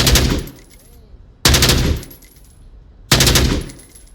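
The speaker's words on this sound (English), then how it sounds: "Rate of fire is a lot faster than the AKM." An AK12 rifle in the VR shooter Onward fires three loud, rapid bursts, each a dense rattle of shots roughly a second and a half apart, close and alone without talk.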